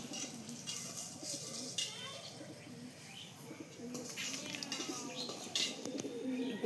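Pigeons cooing softly and repeatedly inside their coop, with occasional chirps and light rustling in a fairly quiet, close space.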